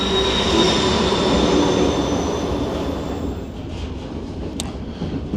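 A White Pass scenic railway train in Skagway, Alaska, rumbles along the rails with a steady, loud roar and a brief high squeal near the end; no one speaks.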